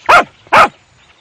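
Two loud, close dog barks in a street, evenly spaced about half a second apart, followed by quiet.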